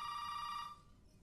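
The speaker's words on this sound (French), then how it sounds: "le téléphone sonne" A telephone rings in the horror video game Resident Evil 7, a steady electronic bell tone that sounds clearly for under a second and then cuts off, leaving faint room ambience with no voices.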